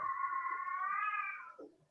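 A house cat lets out one long, clear meow lasting over a second, close and fairly loud, tapering off with a small murmur at the end.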